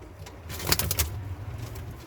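Soft, low pigeon coos close by, a short throaty burble with faint background noise.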